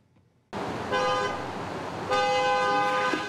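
Car horns blare in the busy Walmart parking lot at 6 Mile Cypress and Colonial Boulevard: one loud honk, then a longer second blast, over a low traffic rumble.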